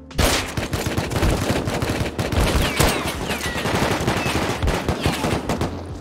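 Rapid gunfire in the survival game Rust crackles in dense, overlapping bursts, loud and nearly continuous, with sharp individual shots punching through the sustained automatic fire.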